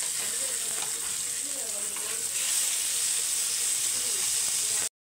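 Fish sizzling in a covered pan after being turned, a dense steady hiss of frying held at an even level, with faint speech underneath, ending abruptly.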